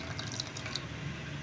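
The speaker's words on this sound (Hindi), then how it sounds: "इसमें अब थोड़ा सा पानी ऐड करेंगे" Water is poured in a soft, steady trickle into a bowl of whisked yogurt in a home kitchen, faint and continuous with small splashy drips.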